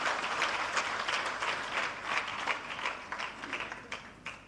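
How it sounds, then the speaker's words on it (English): Audience applause at a women recognition awards ceremony, a steady sustained wash of many hands clapping that swells slightly and tapers unevenly toward the end, with no voices on top. "Ladies and gentlemen, put your hands together."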